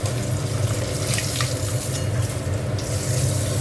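Catla fish tails frying in a pan of hot oil, a steady, dense sizzle with a low hum underneath, continuous and close throughout.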